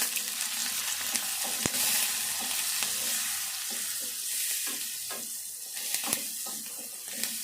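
Onion and green chillies sizzle in a pan for a Telangana chilli and ivy gourd curry, a continuous close hiss. Occasional sharp clinks and scrapes come from a spoon stirring, with no talk.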